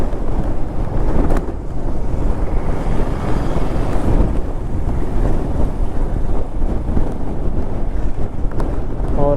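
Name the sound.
strong sea wind near Dhanushkodi shore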